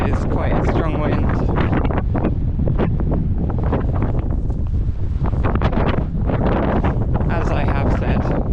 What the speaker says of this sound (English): It's not too bad with the wind, but it is quite a strong wind.